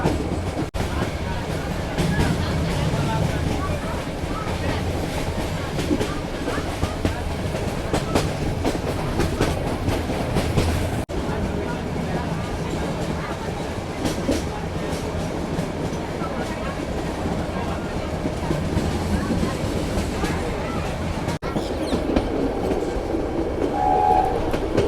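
Meter gauge train on the Junagadh to Delvada line during the monsoon, rolling along the rails with a continuous loud rumble and rhythmic clatter, heard from on board.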